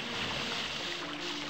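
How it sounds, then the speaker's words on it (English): Loud, continuous water splashing from the Commandos 2 video game fills the short stretch with dense, rushing noise and no talk. "That's very loud splashing of them."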